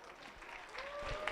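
Scattered, fairly faint clapping from the crowd at a 4-H market hog show at a county fair, building slightly toward the end over a hum of background noise.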